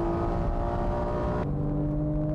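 Honda Type R and GT3 race cars accelerate down the straight at Fuji, a sustained loud engine roar with steady harmonic drone that drops in pitch partway through as the cars pass, no talk.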